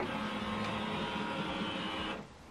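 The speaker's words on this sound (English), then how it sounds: "This printer, you switch this printer on and off from this button." An HP Officejet Pro 8135e inkjet printer starting up, a steady close mechanical whir and hum that runs evenly for about two seconds and then drops away.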